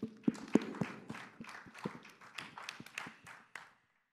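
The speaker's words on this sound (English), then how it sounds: "Give yourselves a hand clap" Children at a Sunday church service give a brief round of scattered hand claps, faint and uneven, thinning out and stopping after a few seconds.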